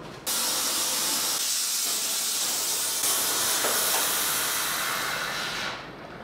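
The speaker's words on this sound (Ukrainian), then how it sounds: "Гартування буду робити на оливу, відпрацьоване масло." Hot leaf-spring steel plunges into used motor oil in a plastic container, and a loud continuous hiss and sizzle starts abruptly, holds for about five seconds and then fades.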